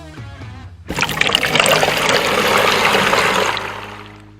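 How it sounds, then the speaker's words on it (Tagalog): Water gushes steadily from a freshly opened faucet through a garden hose, set up for washing a Rusi Classic 250 motorcycle; a quiet lead-in gives way to a loud, continuous rushing stream that holds steady to the end. "Kailangan natin buksan ang gripo."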